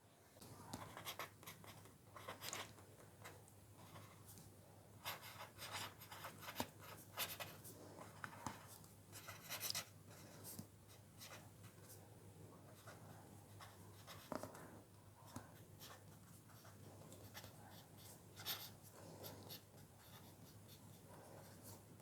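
Pen scratching across paper while writing out a trigonometry graph label and underlining it, a steady run of small scraping strokes with brief pauses, close and quiet, no voice.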